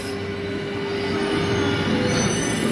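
A Mexico City metro train roars close by at Zócalo station with a steady rumble and high metallic wheel squeal, loud and continuous throughout.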